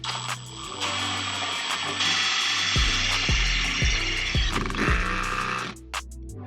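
A cordless drill whirs in short bursts, with a few sharp clicks and stops as its clutch slips while tightening a rivet nut, heard close up and fairly quiet.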